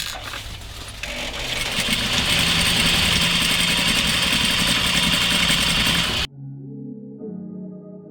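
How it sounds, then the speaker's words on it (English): A home sewing machine stitching a dress, a loud steady mechanical hum lasting about six seconds before it cuts off abruptly, followed by a faint lower tone. "So I'm just showing you, I'm just sewing this dress together."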